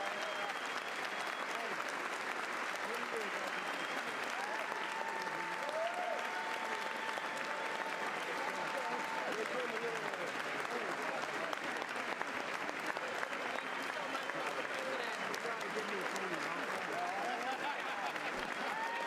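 An audience at a stand-up comedy show applauds and cheers in one long, dense, steady burst of clapping that keeps going at full strength, with crowd voices mixed in.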